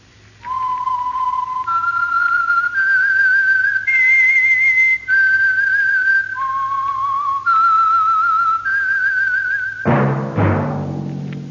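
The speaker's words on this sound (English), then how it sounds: "That whistle is your signal for the Signal Oil Program" A clear, loud whistled melody of sustained notes stepping up and down, the radio signature of The Whistler, ending with a sudden burst of noise.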